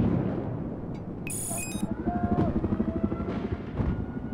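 Heavy rotor thump from an attack helicopter circling in Battlefield 4 drones steadily, with rumbling engine noise and occasional electronic game blips layered over it.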